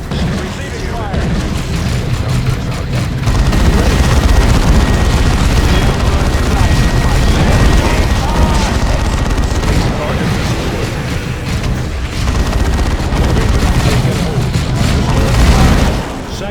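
Dense, continuous gunfire and heavy explosions in the Dawn of War II battle game, loud booms rolling one after another with a brief lull near the start.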